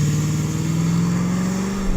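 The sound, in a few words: Range Rover launching from standstill, accelerating hard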